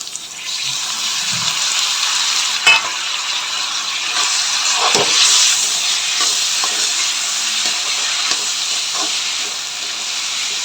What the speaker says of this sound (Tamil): வெங்காயம் நல்லா வதங்கிடுச்சு இப்போ வந்துட்டு தக்காளி சேர்த்துக்கலாம்